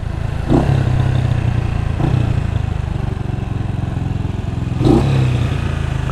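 A Honda CBR motorcycle runs with a loud, close, steady engine drone that swells briefly in a couple of throttle surges, with light mechanical clatter.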